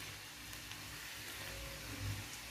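Mackerel pieces added to a pan of fried onions give a steady, fairly faint broadband sizzle that holds evenly throughout, with a slight low swell near the end and no voices.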